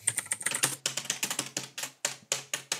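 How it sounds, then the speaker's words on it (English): Rapid, hard keystrokes clatter on a computer keyboard, a close and loud series of sharp clicks in an uneven rhythm with brief pauses. "I just hit the keys really hard. I'm just a loud typer."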